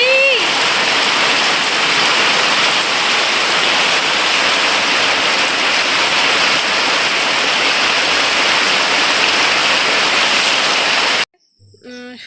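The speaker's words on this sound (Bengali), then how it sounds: "ঝমঝমিয়ে বৃষ্টি।" A heavy downpour roars in a dense, constant wash for most of the stretch before cutting off abruptly to a quieter moment with faint sounds.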